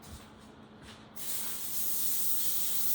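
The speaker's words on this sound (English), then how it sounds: "Now I'm going to spray the parchment paper a little bit with some olive oil" Olive oil sprays onto parchment paper in a short, close hiss that starts after a second of quiet and holds steady to the end.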